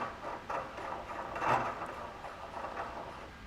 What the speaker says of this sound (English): Now go ahead and thread down your knob.